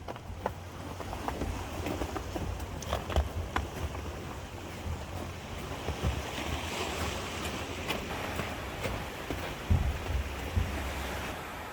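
Steady wash of ocean surf on a frozen, icy winter shore, with gusty wind noise buffeting the microphone, continuous and moderately distant.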